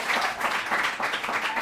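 Students cheer and clap for their team at a school competition between Collège Saint-Michel and Collège Saint-André, a brief dense burst of crowd applause with excited voices.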